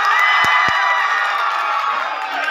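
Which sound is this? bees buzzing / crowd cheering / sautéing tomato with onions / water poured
crowd cheering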